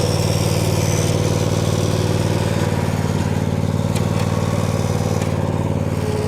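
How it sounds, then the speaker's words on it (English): Small engine of a riding mower running steadily nearby as it drives up, a continuous loud, even drone with a rough pulsing low rumble throughout and no talk. "She's coming on in with the mower there."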